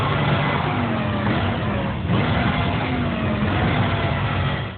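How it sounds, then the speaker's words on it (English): A car engine in the video game Need for Speed Carbon roars continuously at high revs, a steady loud drone with a brief dip midway before fading at the end. "You'll get fantastic car sounds and engine revving."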